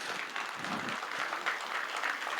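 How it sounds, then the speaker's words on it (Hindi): Crowd at a Holi festival celebration clapping for the organizing team, a dense, even wash of applause holding steady throughout, somewhat distant and soft. "उस सपने को साकार करने वाली इस होली महोत्सव टीम के लिए मैं चाहता हूं कि एक बार जोरदार तालियां आप सभी बजाएं।"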